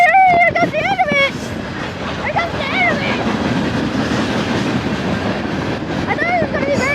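Eastbound Union Pacific mixed freight train passing close by, a loud steady rumble with rhythmic clickety-clack of cars over rail joints and squealing wheel tones, while excited voices call out over it.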